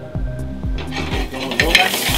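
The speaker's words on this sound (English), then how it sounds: "You want to brown the garlic off before you add it to the next step." Garlic browning in a hot pan at a noodle bar kitchen, with a steady sizzle under repeated stirring strokes and scraping clinks of a utensil against the pan, close and fairly loud.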